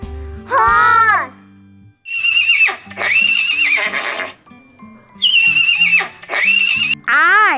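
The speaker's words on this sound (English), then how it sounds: "H for horse." Loud horse neighs repeat several times in shrill, quavering whinnies separated by short pauses, close and prominent.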